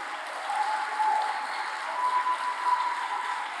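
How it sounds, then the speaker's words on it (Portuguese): Church congregation applauding during a sermon, producing a continuous, even roar of many hands clapping at moderate loudness with a faint sustained tone underneath. "Você pode aplaudir Jesus?"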